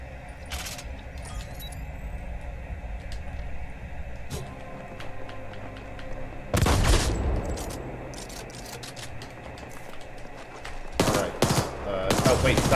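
Gunfire in The Ascent comes in repeated bursts of rapid shots with louder clusters near the middle and end, over steady game ambience, with occasional voices.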